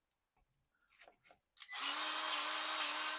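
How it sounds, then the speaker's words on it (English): A grease gun pumping grease into a fitting on a worn Liquifire suspension: a few faint clicks and handling sounds, then a loud, steady, close whirring drone that runs to the end. "I'm just going to shoot a couple pumps of grease in there."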